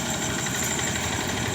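A tractor engine runs steadily in a muddy, waterlogged rice paddy being ploughed and harrowed, a continuous droning rumble with a rough, vibrating idle and no break or talk.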